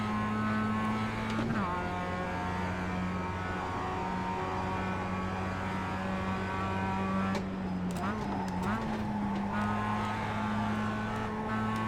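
Mazda race cars in the iRacing game at Suzuka drone with a steady, loud engine whine that dips and rises in pitch as the car shifts through a corner, with other cars close behind.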